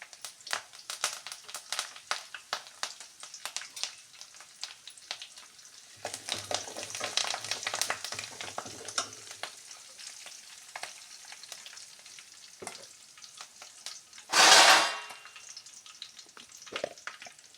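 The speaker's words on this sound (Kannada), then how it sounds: "ಈಗ ಸ್ವಲ್ಪ ಅರ್ಧ ಸ್ಪೂನ್ ಸಾಸಿವೆಯನ್ನು ಹಾಕ್ತಾಯಿದ್ದೀನಿ." Mustard seeds and curry leaves hit hot oil in a pan, crackling and popping in quick irregular bursts up close, with a swelling hiss partway through and a sudden loud sizzling flare near the end.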